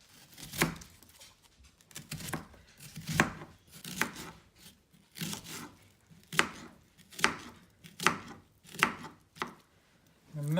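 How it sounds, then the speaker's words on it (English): A knife thinly slices onion on a cutting board in a home kitchen, making steady, crisp chops at an even pace, close and clear with no talking. "So I've already started preparing some of the onion, but I just want to show you how thinly to slice these."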